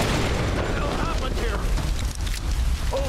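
A grenade launcher explosion in Tomb Raider Definitive Edition, a sustained loud rumbling boom with debris crackle that fills the whole moment.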